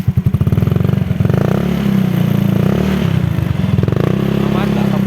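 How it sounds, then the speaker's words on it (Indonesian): A Yamaha Mio Sporty scooter engine with an aftermarket exhaust idles steadily close by with a low, even putter, a faint rattle running through it, while someone talks over it. "Suara halus ya, mesin halus."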